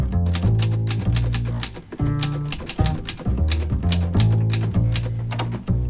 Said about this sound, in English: There's a lot going on when you're using a typewriter.